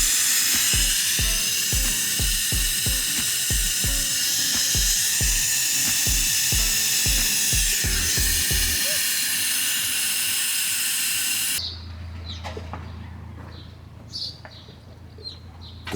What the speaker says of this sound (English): I'm just going to put a bit of steam through the vents now